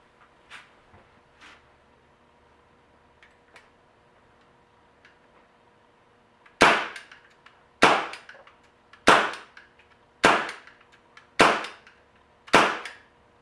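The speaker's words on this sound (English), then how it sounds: "I am now taking 6 shots from the vintage Crosman 357." A vintage Crosman 357 CO2 air pistol, rebuilt with a new CO2 valve assembly, fires six sharp, loud shots at a steady rhythm of about one per second. Faint clicks and handling noises come first.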